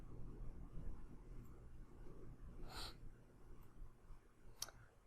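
Computer mouse clicks during software work on a building design clash test, a few faint separate clicks over low background hum.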